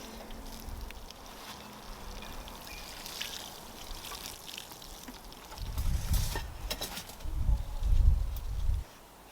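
Lake water poured from a watering can onto an old raised garden bed, a steady soft trickle and splash that grows heavier in two louder gushes toward the end.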